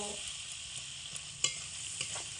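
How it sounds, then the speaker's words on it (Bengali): Tomatoes sautéing over medium heat with salt, turmeric and dry chilli powder for a potato curry, a quiet, steady hissing sizzle with a few soft stirring taps and one sharper knock, no talk. "এবার আমি টমেটোগুলোকে লবণ হলুদ আর শুকনো লঙ্কার গুঁড়ো দিয়ে মিডিয়াম আঁচে রেখে ভালো করে কষিয়ে নেব"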